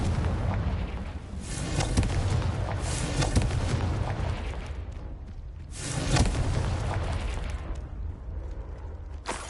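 Confringo blasting spell in Hogwarts Legacy, loud booming explosion bursts with a rolling rumble, one around two seconds in and another near six seconds, over continuous game noise.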